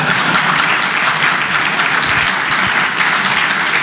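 An audience at a radio gun control debate breaks into loud, steady applause. Dense clapping carries on without a break for the whole stretch, with no voices standing out above it.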